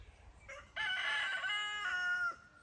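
Chickens call out in a short burst of loud, crowing-like cries lasting about a second and a half, rising after a quieter start, with no talking.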